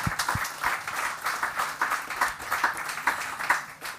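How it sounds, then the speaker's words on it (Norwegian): Audience applause after a panel discussion on shared housing at a public forum in Arendal, a steady wash of many hands clapping with a few louder nearby claps, fairly even and moderately loud throughout, with no talking. "En applaus til dere alle."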